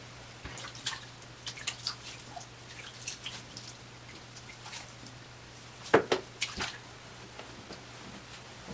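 Soft, close splashes and drips of water splashed onto a face while shaving, a few quiet handfuls at a time over a low steady hum.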